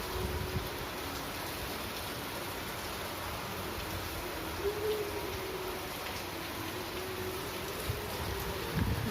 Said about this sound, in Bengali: বাইরে বেশ সুন্দর বৃষ্টি হচ্ছে